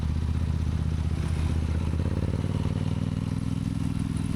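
A motorcycle engine labors in gear up a steep hill road, a steady close mid-pitched drone with rapid firing pulses and slight rising strain, continuous throughout with no talking.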